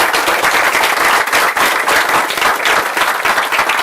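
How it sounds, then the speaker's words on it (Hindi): An audience claps loudly for a speaker at a motivational talk, a dense, sustained burst of applause that stays strong throughout. "ये आप एमएलए के लिए तालियां बजा रहे हो, प्राइम मिनिस्टर के लिए बजानी है"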